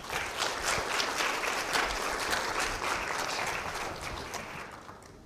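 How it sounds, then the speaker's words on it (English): Sustained applause from a convocation audience honoring a student organization, dense and steady clapping that holds loud for several seconds before tapering slightly at the end. "So let's give them a big round of applause."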